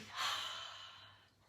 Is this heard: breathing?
yes